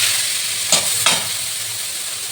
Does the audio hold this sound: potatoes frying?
yes